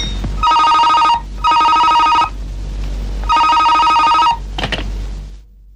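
A telephone rings loudly and close in three long bursts of trilling bell tone separated by short gaps, followed by a click and a brief clatter.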